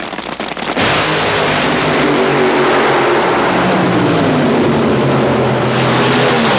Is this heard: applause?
no